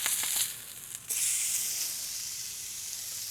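Steak flips in a hot pan after sous vide cooking and sizzles loudly. A brief clatter comes first, then a strong, steady hiss of frying fat.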